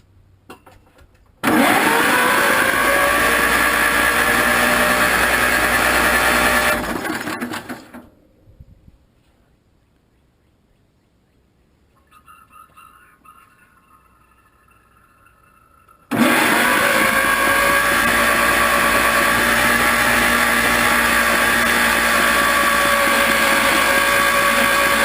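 A rebuilt 1947 Farmall M tractor engine cranks over with no spark plugs fitted, a loud, steady starter whir that runs for several seconds, stops, then starts up again after a quiet gap.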